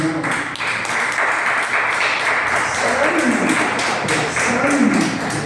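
A church congregation applauds during a sermon, a continuous wash of clapping mixed with voices and some musical tones underneath.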